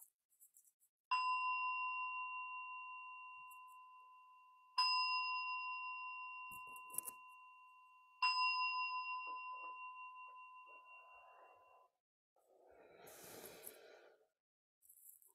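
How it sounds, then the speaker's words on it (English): A Soto Zen meditation bell struck three times at even intervals, each strike a clear sustained ring slowly decaying in a quiet room, followed by rustling and a soft breath. "ring the bell three times to start and once to end."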